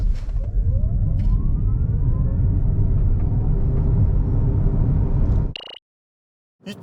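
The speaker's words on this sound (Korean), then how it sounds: "아이오닉 6 과연 발진 가속 성능 얼마나 됐는지 볼까요?" A 2023 Hyundai Ioniq 6 electric car pulls away hard from a standstill, with loud, steady road and wind rumble and a faint rising motor whine before the sound cuts off.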